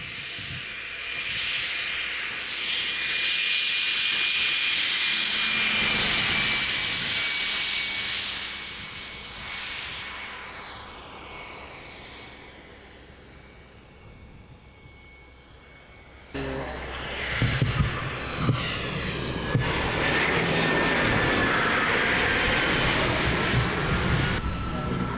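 A small airplane comes in to land, its engine droning and hissing loudly, fading to a lower roar midway, then surging again with rushing wind noise near the end.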